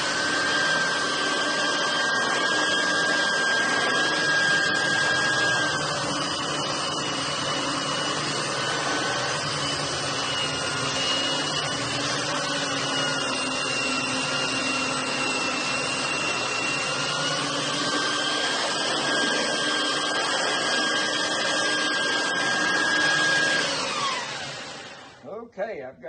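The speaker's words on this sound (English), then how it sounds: "I'm going to use a belt sander. I've got 40 grit sandpaper on this belt sander" A belt sander fitted with 40 grit sandpaper grinds across wood in one long, loud, steady whine and rasp that runs unbroken before cutting off abruptly at the end.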